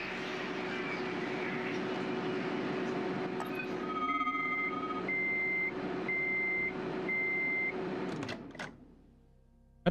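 In the video game Atomic Heart, a truck backs up with a series of evenly spaced reversing beeps over a low engine rumble. A short clank follows before the sound drops away to near silence.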